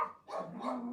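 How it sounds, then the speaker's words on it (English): Household dogs bark in a few short, close yips and barks in quick succession, loud and without talk. "Sorry about the dogs."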